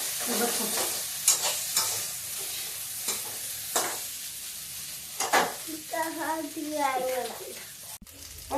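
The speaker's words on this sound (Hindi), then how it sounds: "देखिए मेरी आलू फ्राई हो गई है।" Potatoes fry in a home kitchen pan, a continuous sizzle punctuated by repeated scraping stirs and knocks, while voices, including what sounds like a child's, talk over it toward the end.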